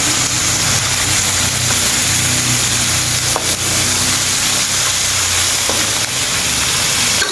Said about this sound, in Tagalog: Pwede natin ilagay yung ating papaya. Haluin natin.